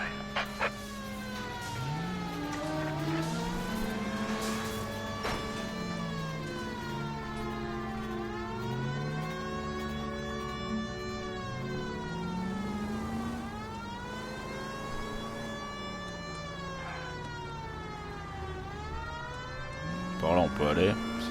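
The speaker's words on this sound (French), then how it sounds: "Je vais couper la sirène, hein." A police car siren in the L.A. Noire video game wails steadily for about twenty seconds, its pitch sweeping up and down in long repeated cycles, loud and close throughout.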